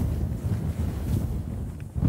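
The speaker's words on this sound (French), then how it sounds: "au gré du vent qui souffle sans trouver d'obstacle à sa course" Wind blows across the open tidal flats at Mont Saint-Michel in November, a steady low rushing buffet against the microphone with no other sounds.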